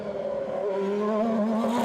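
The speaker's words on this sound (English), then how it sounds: "it's bringing that Formula One sound to the people of Adelaide" A Formula One race car engine at the Adelaide Motorsport Festival sounds as a steady, high-pitched whine held for a couple of seconds, moderately loud and alone.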